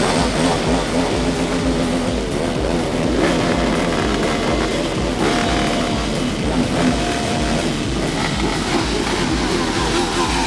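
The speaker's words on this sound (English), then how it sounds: "All you can hear is people revving bikes all the way through the town." Ducati motorcycles rev through a town during World Ducati Week, a continuous loud roar of engines with layered exhaust note and a few surges, close and constant throughout.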